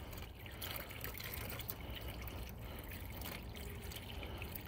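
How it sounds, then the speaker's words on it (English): Blue Devil radiator flush is poured from its bottle into a truck's radiator, giving a continuous liquid gurgle and trickle with small splashy bursts and no talking. "Now I'm putting in this Blue Devil radiator flush."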